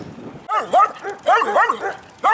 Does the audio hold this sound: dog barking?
yes